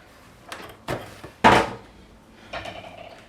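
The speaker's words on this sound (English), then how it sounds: "Just gonna rough chop these final ones here" A knife roughly chopping garlic, onions, shallots and spring onions on a board: four or five separate dull thuds at uneven intervals, one louder cut near the middle, close and quiet otherwise.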